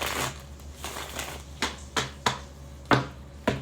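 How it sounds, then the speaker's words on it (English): A tarot deck is shuffled by hand, giving a series of short, crisp papery bursts, about eight separate riffles spaced unevenly, close and fairly quiet. "One more shuffle."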